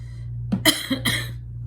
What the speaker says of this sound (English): Still got that little cough.